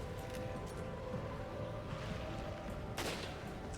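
Gunfire in the video game Resident Evil 5, a steady wash of distant shots and combat noise with one sharper, louder burst near the end.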